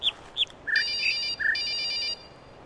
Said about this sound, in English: a loud and distracting telephone sound plays